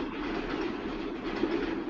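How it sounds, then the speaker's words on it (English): A train passes at a steady distance, a continuous rumbling roar with rail clatter that holds level throughout, with no voices. "There's the train. That's a train."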